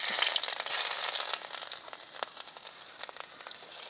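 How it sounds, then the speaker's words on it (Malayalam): Finely chopped ginger sautéing in hot oil in a pan, a steady soft sizzle and crackle with scattered pops, fading slightly after the first second and heard alone. "ഇഞ്ചി ഒന്ന് ഇട്ട് കൊടുത്തിട്ട് നമുക്കൊന്ന് ഇളക്കി ഒന്ന് വാട്ടിയെടുക്കാം"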